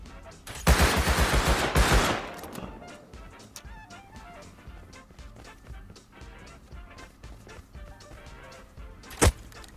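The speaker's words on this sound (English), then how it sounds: "We got an MP5 now, baby. We gonna get right. Shooting out here." MP5 submachine gun firing in Rust Console Edition, a close rapid burst of automatic shots lasting over a second, followed by quieter movement and one more sharp shot near the end.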